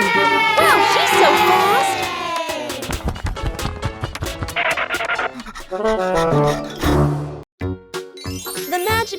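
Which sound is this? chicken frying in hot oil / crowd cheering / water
crowd cheering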